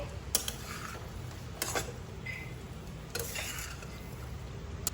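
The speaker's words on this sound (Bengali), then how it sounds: "এবার পুরো মাংস, মশলা, আলু ভালো করে নেড়ে নিয়ে" Chicken, potatoes and spices stirred in a wok, with a few sparse, faint clatters of the spatula against the metal pan spaced a second or more apart over a quiet background.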